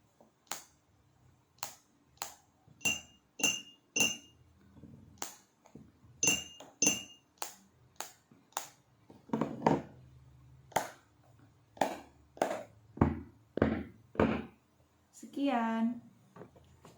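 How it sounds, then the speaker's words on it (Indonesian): A marker tapped against a bottle as a stand-in for a kentongan and stick, giving a series of sharp glassy clinks in a steady rhythmic pattern, close and clear, with a voice speaking between the taps. "Karena tidak ada stick dan kentongannya, jadi Ibu pakai ini spidol dan botol."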